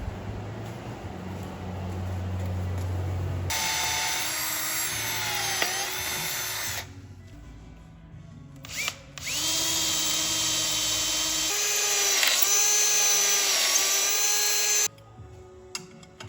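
A power drill bores into a piece of metal thought to be magnesium, whining loudly in two long sustained runs with a pause between, pitch dipping slightly as the bit bites, then stopping abruptly.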